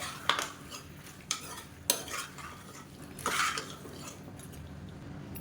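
Mixed vegetables and tomato being sautéed in a pan for vegetable biryani: a faint sizzle continues beneath four or five distinct scrapes and clanks of a spoon against the pan, with no talking.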